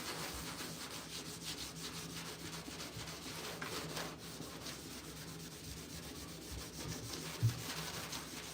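Old original VW paint being sanded off a car body panel, a continuous close abrasive rubbing hiss that carries on evenly with one small knock near the end.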